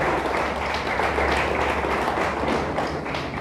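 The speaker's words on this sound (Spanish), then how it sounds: "Le damos un fuerte aplauso a Dios. Déselo fuerte, por favor," A church congregation claps loudly and continuously in a dense, steady burst of applause that fills the room, with a low hum underneath and no speech.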